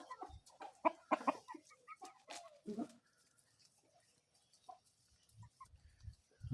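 Chickens and young roosters cluck and squawk close by in short, irregular bursts, busiest at the start, then sparse quiet clucks with low rustling near the end.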